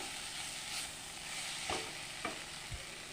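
Spiced ingredients are stirred together in a pan for a banana flower ghonto, making a steady low sizzle broken by two or three sharp spatula scrapes, with nobody speaking.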